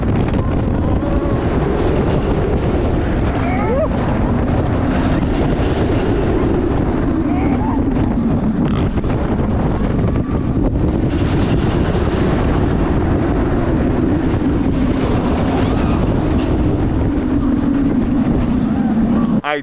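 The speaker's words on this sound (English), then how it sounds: "It made this roller coaster even more intense than what it already is." Riding the Kraken roller coaster at SeaWorld Orlando brings a loud, constant rush of wind buffeting the microphone over a deep rumble of the train, with voices faintly mixed in throughout.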